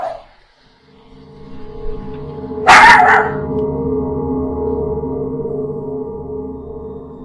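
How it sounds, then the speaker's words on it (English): A dog lets out one sharp bark midway, followed by a sustained whining, tonal drone that lingers quietly to the end. "The dog begins to bark towards the memorial of their other pet who passed away sometime prior to this."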